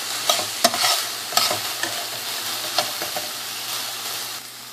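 Onion and celery sauté in a pan, a steady close sizzle broken by the scrape and clatter of stirring, with no voices.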